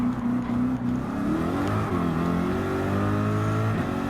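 Pontiac Firebird Trans Am in Gran Turismo 7 held at throttle: a loud, steady V8 drone with rising and shifting engine pitch, heard close from the hood camera, with no voices.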